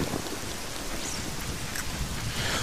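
Rain pours in The Legend of Zelda: Ocarina of Time, with thunder in the storm. A dense, steady wash of rainfall hiss runs throughout with a low rumbling underneath and no talk.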